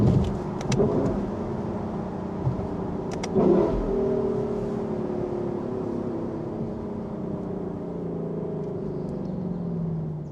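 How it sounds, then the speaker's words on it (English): A sports car engine driven in Sport S Plus manual mode is heard from inside the car, with a deep, loud rumble and sharp pops or blips during downshifts near the start, then settling into a steady engine drone. "And just listen to those downshifts."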